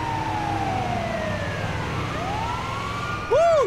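An ambulance siren wails from a vehicle being driven in the video game GTA V, with sweeping tones running steadily under engine and traffic noise, ending in a sharper close siren burst.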